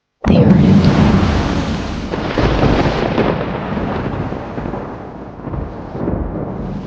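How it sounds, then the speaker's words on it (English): A sudden loud crack of thunder bursts out and rolls on in a long, rumbling decay, booming and close, with no voices over it. "It was thunder."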